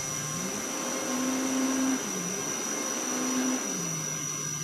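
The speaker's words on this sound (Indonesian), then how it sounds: "perhatikan suara dinamonya" A small 12V dynamo motor whirs steadily with a high whine, its pitch stepping up and down a couple of times as the voltage and speed change.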